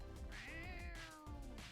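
A cat in the video game Super Crush K.O. gives one drawn-out meow with a rising then falling pitch. It is soft and clear, and no speech is mixed in.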